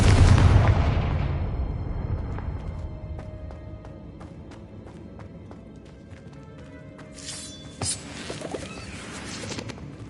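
Confringo fire spell in Hogwarts Legacy bursting with a loud booming explosion at the start, then a decaying rumble with scattered crackles and sharp game impact sounds.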